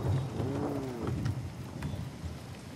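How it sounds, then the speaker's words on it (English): Rain falls steadily with a low rumble of thunder in the video game Far Cry 6, an even wash of rain noise with a brief rolling swell near the start. "Oh, it's gonna rain. You hear that?"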